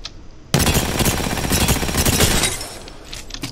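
Automatic weapon fire from the Alternator in Apex Legends, fitted with a gold magazine, in a loud sustained burst of about two seconds that trails off into fainter distant shots.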